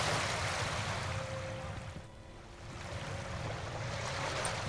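Ocean waves in the video game Arcanum, a loud continuous surf roar that briefly dips and thins midway before swelling back up, with no voices over it.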